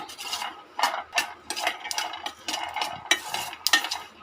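Peanuts roasting in a pan for Telugu palukula laddu are stirred steadily, giving a dry, scraping rattle in repeated bursts, close and fairly loud with no talk over it.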